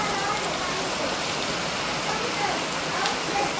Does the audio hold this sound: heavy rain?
yes